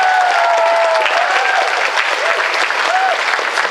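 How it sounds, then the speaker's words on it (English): Loud, sustained applause and cheering from a convention crowd at a cosplay competition, greeting a contestant dressed as Kylo Ren from Star Wars; dense clapping fills the whole stretch with a few whistles rising over it. "Ladies and gentlemen, a round of applause for Bernard Sutton-Power dressed as Kylo Ren from Star Wars."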